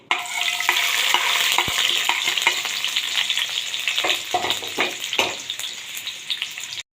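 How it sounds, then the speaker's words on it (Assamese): Onion fries briskly in plenty of hot mustard oil, a loud, dense sizzle close by, with spatula scrapes and clinks becoming more frequent as the stirring goes on. "প্ৰথমতে মই পিঁয়াজ অলপ ভুনি লৈছোঁ।"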